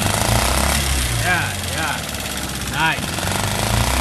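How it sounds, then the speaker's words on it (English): A Honda 5 horsepower 4-cycle engine runs steadily with a dense, continuous mechanical drone close by, while someone speaks briefly over it. "this is a Honda 5 horsepower 4-cycle."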